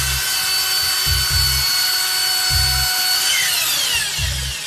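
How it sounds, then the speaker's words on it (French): A power drill bores into a suspicious parcel at an airport customs check in Colombia. It runs as a steady, loud whine with a few low thumps, and no one speaks. "Tu as la perceuse?"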